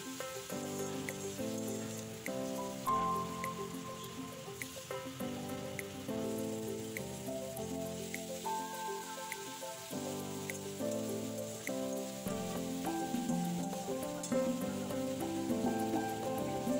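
Spice paste for a tomato shol fish curry sizzles steadily in hot oil, a continuous close crackle and hiss with music playing over it throughout.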